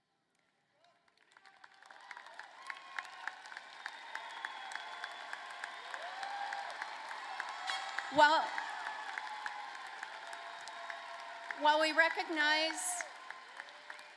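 A commencement crowd applauds as honors students stand at a spring graduation ceremony, the clapping gradually building into a broad wash with cheers and whoops, while a voice briefly speaks over it.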